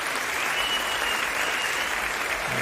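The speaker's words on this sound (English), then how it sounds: "the round of applause" Steady, continuous applause fills a live boxing event, a dense wash of clapping from a crowd that holds evenly throughout without any break.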